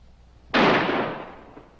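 A single loud gunshot cracks out of near-silence during a police standoff, its sharp report ringing and fading away over about a second, with no voices.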